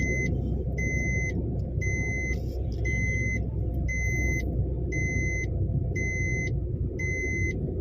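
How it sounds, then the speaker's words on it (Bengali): Car engine running steadily in fifth gear on a local road during a driving lesson, a constant low rumble with a repeating electronic beep pulsing about once a second throughout. "হ্যাঁ এবার ফিফথ গিয়ার রানিং করো, গাড়ি রান করো, রেসের প্রেশার রাখো"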